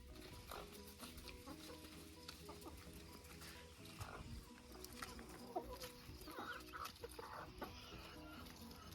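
Chickens cluck and peck softly while eating leaves, quiet and somewhat distant, with scattered short calls and rustling over a faint background.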